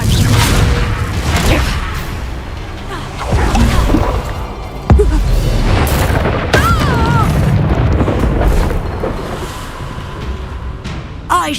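Confringo fire spell blasts in the Hogwarts Legacy video game, loud booming explosions and bursts recurring throughout amid game effects and spell shouts.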